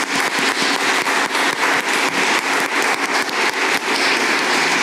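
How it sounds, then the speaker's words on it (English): Dense, sustained applause from a conference audience for a discussion panel, many hands clapping in a loud, crackling wash that holds steady throughout. "So please join me in applauding our panel"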